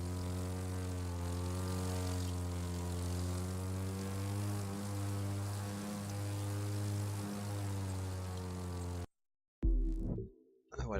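A propeller plane in the video game The Crew 2 drones steadily with a rich, even engine hum, cutting out briefly near the end before a short burst of other game sound.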